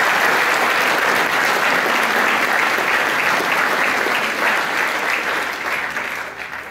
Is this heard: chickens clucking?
no